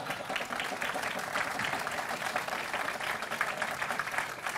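Sustained applause from a large party audience after Merkel's speech, a dense, even wall of clapping that carries on without a break.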